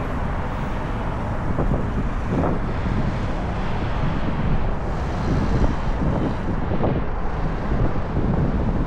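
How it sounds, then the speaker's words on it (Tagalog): Strong, cold wind buffeting a microphone outdoors on a city walk in Riyadh, a loud continuous roar with gusty swells throughout and no voices. "Malakas ang hangin at malamig."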